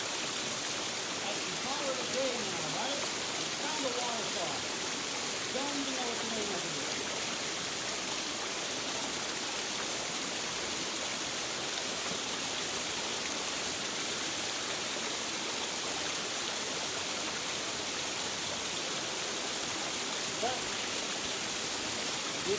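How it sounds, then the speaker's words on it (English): Steady broadband rushing of a waterfall on a hiking trail, a constant roar with no breaks, and faint voices or birdlike chirps briefly surfacing in the first few seconds. "Good chunk of one waterfall."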